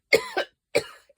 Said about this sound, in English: I still haven't got rid of that cough.